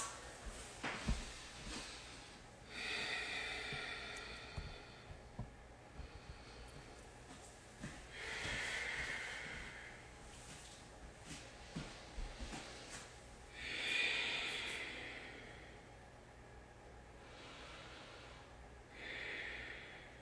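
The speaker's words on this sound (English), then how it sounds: "Take 3 more breaths." Slow, deep breathing during a seated floor yoga pose, several long airy inhales and exhales spaced a few seconds apart, close and fairly soft, with faint rustles between breaths.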